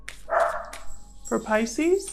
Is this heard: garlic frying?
no